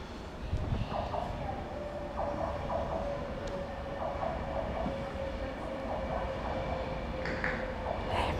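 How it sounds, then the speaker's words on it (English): A Pendolino train rumbles in steadily to a station platform, with low mechanical noise and faint higher squeals or tones over a continuous background roar. "I think we're just going to be in time to see a pendolino come in, Tobes."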